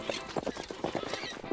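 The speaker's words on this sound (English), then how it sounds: "A horse ran up to the baby." Horse hooves clip-clop in quick, uneven beats as the animal runs up, fairly close and loud, with a brief whinny-like squeal mixed in.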